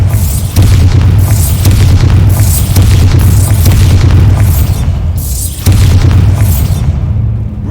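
Bombarda spell explosions in Hogwarts Legacy, a sustained series of loud, heavy booming blasts rolling one into the next with a deep low rumble underneath, close and overwhelming, no talking.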